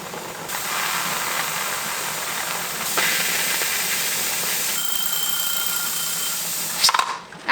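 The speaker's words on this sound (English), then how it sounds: "When this pops, this is gonna start spewing steam" Steam spewing steadily from a pressure canner vent pipe, a loud continuous close hiss with a faint whistling tone partway through and a few clicks at the end; no talk.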